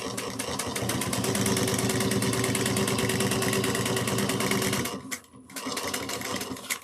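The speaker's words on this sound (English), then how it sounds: "I'm going to top stitch at 1/8 of an inch." Sewing machine top stitching a bucket bag at one-eighth inch, a loud steady rapid mechanical whir running for about five seconds, then stopping abruptly with brief clicks and handling noise after.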